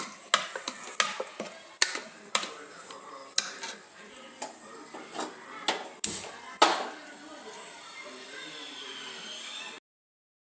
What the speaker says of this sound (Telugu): కారం, టేస్ట్ సరిపడా సాల్ట్ మొత్తం కలుపుకుందాం.